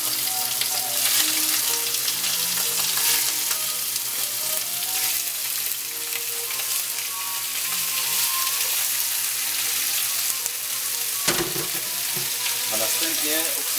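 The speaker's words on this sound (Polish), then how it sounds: "Wrzucamy na gorącą oliwę." Stuffed squid sizzling as it fries in hot olive oil, a loud, continuous crackle with occasional stirring and clinks, and a sharp burst of spitting near the end.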